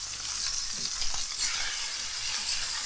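Beef pieces fry and sizzle steadily in a pan over a low flame for a Jamaican Christmas meal, a dense, continuous hiss with faint stirring and light pops throughout, close and with no talk.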